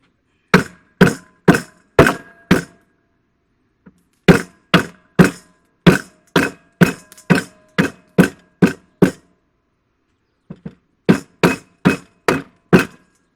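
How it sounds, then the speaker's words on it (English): Whole nutmegs folded in a linen cloth are smashed with sharp, loud thuds struck in quick rhythmic bursts of about five to ten blows, separated by brief pauses. "Once you get them smashed, they go pretty well."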